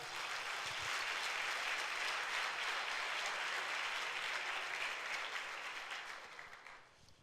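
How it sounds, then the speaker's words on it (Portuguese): A church congregation claps for the Lord during a Sunday service. The applause is dense and steady, with many hands close and loud, then fades out over the last second. "Então dá um aplauso para o Senhor"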